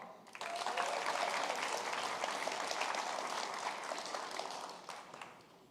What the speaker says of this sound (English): If you can give a round of applause to our judges, please.